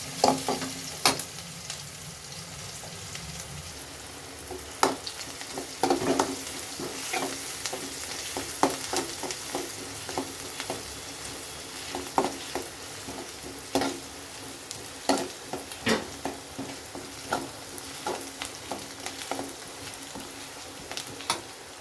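Finely chopped onions roasting in a pan for onion gojju: a soft, continuous sizzle broken by frequent sharp spatula scrapes and clicks throughout, with no one speaking.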